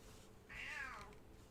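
A cat gives a single faint meow in the middle of a quiet moment, with low background hum and no speech.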